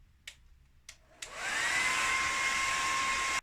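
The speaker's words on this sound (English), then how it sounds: "you're going to take a blow dryer, and you are going to put it on a moderate heat but a high tempo setting" A blow dryer set to moderate heat and high speed switches on after a few clicks and then runs with a steady, loud, even whoosh and a faint whine, close by and with no talking.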